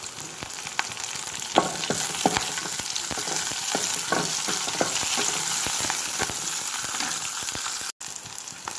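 Half an onion fries in a pan, a steady crackling sizzle with scattered sharp pops and occasional stirring scrapes, close and continuous with no voices.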